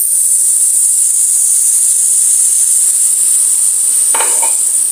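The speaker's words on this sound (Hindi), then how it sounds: "अब मैं इसमें एक कप दूध डालूँगी।" A cup of milk poured into a pan of stuffed eggplant (bharwa baingan) frying on both sides, with a steady, loud sizzling hiss throughout and a brief splashing burst near the end; no talking.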